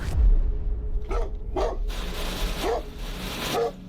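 Several sharp barks from a dog in a garage, four or five distinct yaps spaced roughly half a second apart over a low rumbling background, fairly close.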